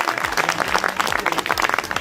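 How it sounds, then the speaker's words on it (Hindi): Dense crowd applause at an election campaign rally, many hands clapping, steady and lively for a couple of seconds, with faint voices mixed in. "आदरणीय राधेश्याम जी बैरवा साहब के लिए 14 तालियों से"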